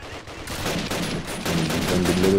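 Dense gunfire in the World War II shooter Call of Duty: United Offensive, with overlapping rifle and machine-gun bursts rattling continuously at close range and growing louder toward the end.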